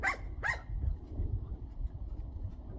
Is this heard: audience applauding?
no